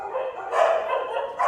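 A dog barks a few times at moderate distance, muffled yips and woofs repeating over a steady low background hum.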